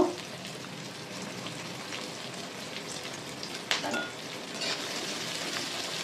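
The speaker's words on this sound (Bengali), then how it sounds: "আমি পেঁয়াজগুলোকে একটু ভেজে নেব লাল লাল করে" Chopped onions and four green chillies frying in oil for a fish curry, giving a steady, even sizzle with a single brief utensil clink midway.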